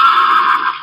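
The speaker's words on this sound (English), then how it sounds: "Horse." A horse neighs once, a loud, close whinny lasting under a second and fading out at the end, with no talking.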